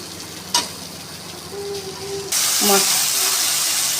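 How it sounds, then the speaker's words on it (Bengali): Spice paste frying with fried taro (kochurmukhi) in a pan, a soft steady sizzle with light stirring scrapes near the start, the hiss swelling louder and brighter in the second half. "এক এক করে ভেজে রাখা কচুরমুখি দিয়ে ভালো করে মশলাটাকে"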